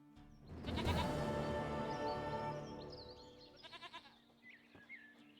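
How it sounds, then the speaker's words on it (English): A goat in The Witcher 3 video game gives a loud, wavering bleat lasting about two seconds, followed by a few shorter quavering calls that trail off more faintly. "Goat of mine, dearest, sweetest goat."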